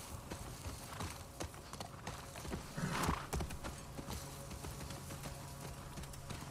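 Horse hooves clip-clop in The Last of Us Part 2, a quick rhythmic clatter of steps running throughout at moderate volume, with a brief louder burst midway.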